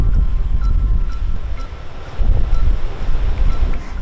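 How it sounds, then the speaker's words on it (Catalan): Wind blowing across the port of La Savina on Formentera, buffeting the microphone in low rumbling gusts that swell louder midway, with faint rustle and distant water in the background. "I el vent que fa encara ho aixuga."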